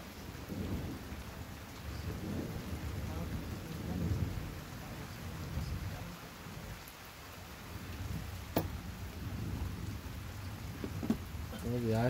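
Steady rain falling during a thunderstorm, a continuous hiss with low thunder rumbles and a few sharp cracks, with people talking faintly under it.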